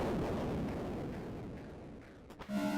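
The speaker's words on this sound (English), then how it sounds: "Organ explosions." Explosions in the video game Axiom Verge rumble as a dense, continuous low roar of blasts that fades slightly before a fresh burst near the end, with no talk.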